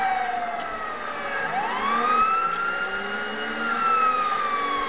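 A wailing siren from a police vehicle in a video game rises and falls in long sweeping tones, steady and fairly loud, with no talk over it.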